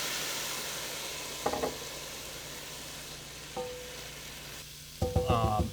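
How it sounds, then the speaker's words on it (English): Wine poured into a hot pan of mushroom bolognese sizzles steadily with a constant loud hiss, broken by a few brief clinks and scrapes of a utensil against the pan. "You just need something to deglaze the pan."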